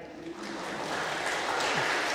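Church audience applauding at a priest's talk, a continuous, fairly loud spread of many hands clapping that swells slightly, with a faint voice briefly underneath.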